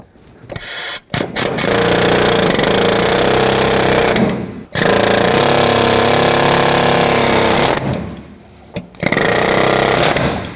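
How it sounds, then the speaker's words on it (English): Pneumatic air chisel hammering at a front shock absorber bolt on a 1997-2004 Dodge Dakota, a loud, rapid metallic chatter in long bursts separated by short pauses. "So you take an air chisel, if you can get in there, cut it straight down, and then you're going to split it side to side."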